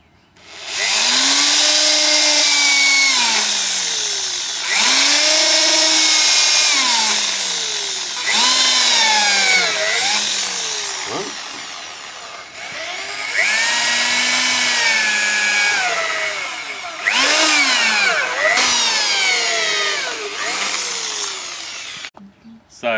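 An electric drill bores 6 mm pilot holes through cypress sleepers, loud and close. Several separate bursts of motor whine sag in pitch as the bit bites into the timber, with short pauses between holes.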